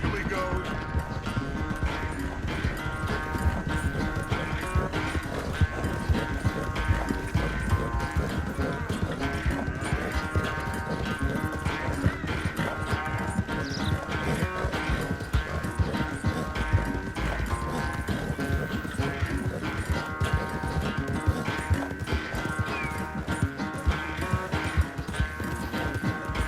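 Horse hooves galloping in the video game Red Dead Redemption 2, a continuous rapid clip-clop rhythm throughout, loud and steady under game music, with occasional voices talking.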